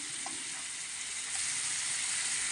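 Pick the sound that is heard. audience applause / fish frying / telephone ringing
fish frying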